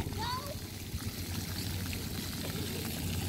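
Water sprays and splashes steadily at an outdoor splash pad, a continuous rushing pour heard up close, with children's voices in the background.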